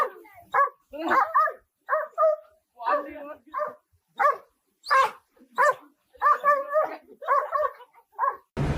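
A dog lets out a long run of excited barks, yips and whimpers in quick irregular bursts, close and fairly loud, with short silent gaps between them.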